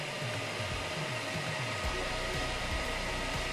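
Steady whooshing whir of replacement fans on a Gigabyte Radeon RX 480 G1 Gaming graphics card spinning up to speed, a constant airy drone with low rumbling fluctuations underneath.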